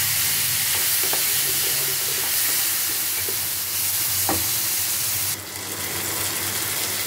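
Spice masala with chilli and cumin powder frying in hot oil in a pan, a steady close sizzle with a few stirring scrapes and a brief splash of added water near the end.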